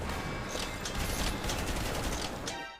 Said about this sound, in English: The flak freaking cannon shot me as well because it AoEs indiscriminately.